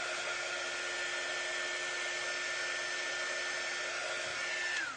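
A hair dryer blows steadily on a Halloween craft jar, a loud continuous whirring drone with a high whine that dips slightly in pitch just before it shuts off at the end.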